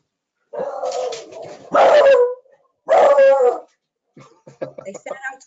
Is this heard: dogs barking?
yes